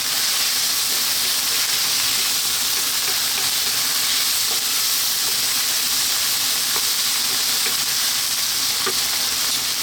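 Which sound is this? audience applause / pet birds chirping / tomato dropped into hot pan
tomato dropped into hot pan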